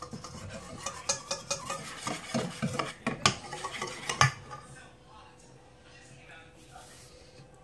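Melted chocolate mixture is stirred in a bowl with lukewarm liquid, producing a series of clinking, scraping strokes for about four seconds before fading into quiet background.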